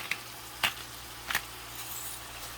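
Shrimp sear in a hot pan, a faint, soft sizzle broken by three sharp taps spaced about half a second apart, with no one talking.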